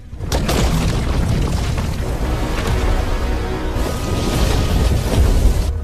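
A huge explosion in a giant monster film, a deep sustained roaring boom that fills the whole stretch with rumbling low end and a fresh surge near the end, no voices.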